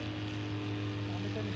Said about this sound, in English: vyjíždí ještě jedno letadlo